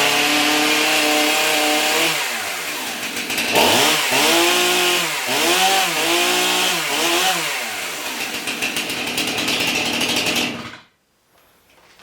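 A chainsaw with a 20-inch bar runs loud and close, idling before revving up and down in several rising and falling surges, then cutting off abruptly near the end.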